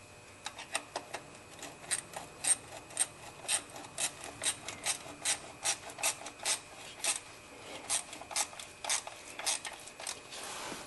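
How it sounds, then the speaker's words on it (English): Wrench tightening the drive belt adjustment on a Toyota, a faint, close series of short rhythmic clicks and scraping strokes repeating steadily through the clip, with no talking. "And then you can use the wrench to tighten it up the rest of the way."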